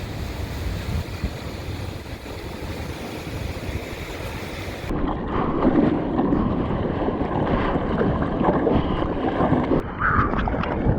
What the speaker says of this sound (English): These waves are pushing in, definitely